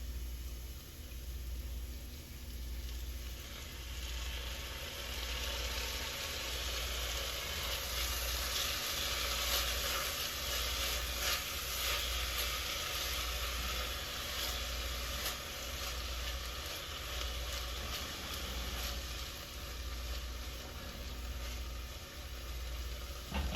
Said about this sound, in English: now I'm gonna add the onions and the garlic.